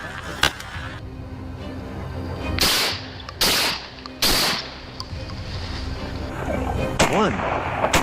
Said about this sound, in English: A deafening gunshot tore through the silence.